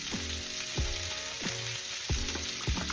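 Butter sizzling in a frying pan over moderate heat, a constant crackling hiss with a few rhythmic scraping stirs of a utensil against the pan, close up.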